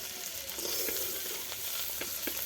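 Prawns frying in oil in a pan, a soft, continuous sizzle with scattered crackles and pops, heard close up with no talking.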